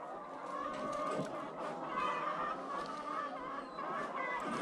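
Many layer hens cluck and squawk together at a chicken farm, a faint, continuous overlapping chatter heard from outside the sheds.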